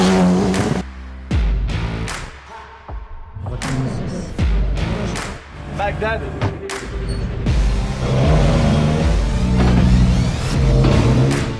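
Grey and green Minerva Oil racing cars pass at a 90th-anniversary event, with repeated loud engine roars and revving sweeps, thumps and passing bursts, while a person talks briefly amid the racket.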